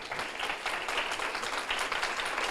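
An audience claps for a presenter at a morning briefing, a dense, steady patter of many hands at moderate distance, fairly quiet, with no voices over it.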